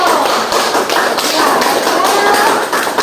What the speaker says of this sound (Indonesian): Aplaus untuk semua kelompok.